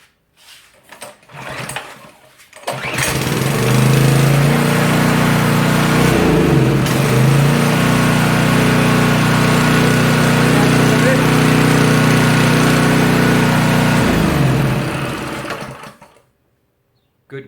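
A Homelite pressure washer's small gasoline engine, freshly cleaned carburetor and fresh fuel, catches after a short rattle, then runs loud and steady for about twelve seconds before cutting out abruptly into silence.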